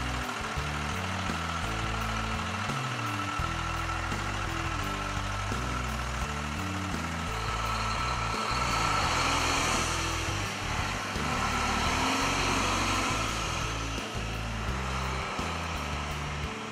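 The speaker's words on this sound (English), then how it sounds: "Engine is a Cummins 400 horsepower." An International 9400 tractor truck with a Cummins 400 horsepower engine and 10-speed transmission runs steadily, a loud, close, continuous diesel rumble that rises slightly midway, with no talking.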